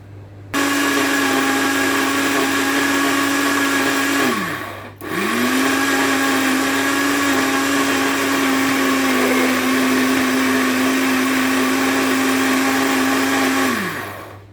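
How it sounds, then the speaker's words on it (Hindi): Electric blender grinding coriander for green chutney, a loud steady high whine in two long runs separated by a short stop, each winding down at its end, with no talk. "और ऐसे करके हम ग्राइंड करना स्टार्ट करेंगे।"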